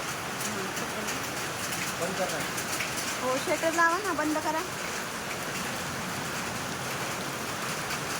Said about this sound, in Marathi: खूप जोराचा पाऊस चाललाय